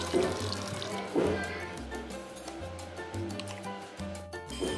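Soaked fenugreek seeds, green gram and rice are washed in water in a sink. Steady, close running tap water splashes and sloshes, with a few louder surges of handling.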